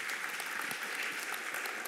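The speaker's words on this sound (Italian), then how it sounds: "un applauso importante ad Andrea" Applause for Andrea at an industry conference: an even, sustained patter of many hands clapping, moderately distant and fairly quiet, lasting about two seconds with no talk over it.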